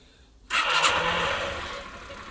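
A motorcycle engine fires up abruptly after a quiet moment, then settles into a loud, steady running roar close by.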